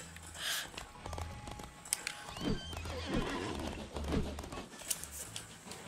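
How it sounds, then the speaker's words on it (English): In Disney Infinity's Lone Ranger game, a horse whinnies loudly while hooves clop in a steady, uneven rhythm, with soft scattered game noise behind. "Oh man, poor horse."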